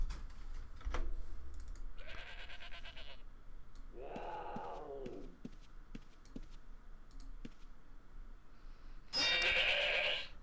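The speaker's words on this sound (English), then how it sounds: "I think we can kill a goat." Goat bleats from the Ultima Online game, two harmonic calls around two and four seconds among sparse clicks and keyboard-like taps, ending in a brighter burst near the close.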